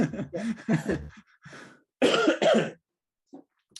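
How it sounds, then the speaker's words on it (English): Several rough coughs and throat-clearing sounds from a man recovering from flu, in quick succession, close to the microphone, with a brief pause and a faint final cough. "I apologize about my cough."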